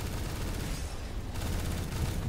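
Gunfire in a competitive video game comes as dense, rapid bursts of shots mixed with explosive booms, fairly faint and continuous throughout.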